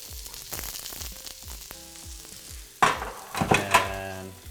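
Onions hitting a hot pan for a savoury pancake, starting with a light crackle and rising to a louder, bursting sizzle near the end, with utensil clinks and scraping mixed in.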